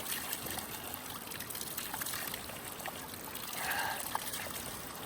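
Water from a mountain spring in Kashmir trickles softly and steadily outdoors, faint and continuous with a slight swell midway; no speech.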